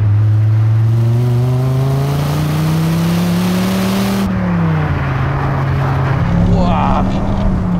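A Dodge Viper GTS is driven hard, its loud engine rising in pitch under acceleration, dropping sharply at a gear change, then climbing again, close and continuous.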